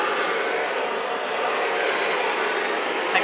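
A steady, continuous rush of blown air over a wet fluid acrylic pour painting, even and unbroken for a few seconds with no talking.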